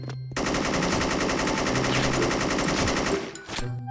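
Sustained automatic fire from an AN94 rifle in the online shooter Special Force, a dense rapid burst running about three seconds nonstop, loud and close, then cutting off abruptly with a short pause and a brief extra crack.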